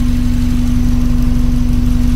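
A 1982 VW Westfalia engine idles steadily with a fitted radiator, a loud, even low rumble with a constant hum and fine rhythmic pulsing throughout.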